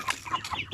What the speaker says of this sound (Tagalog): Tulad ng mga ganito mga manok